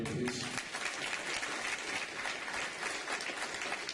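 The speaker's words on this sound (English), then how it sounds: "Can we have a round of applause for everybody that's up here, please?" Steady applause from an audience at a municipal election campaign forum in Sioux Lookout, a dense, even wash of clapping filling the whole stretch, with a brief voice at the very start.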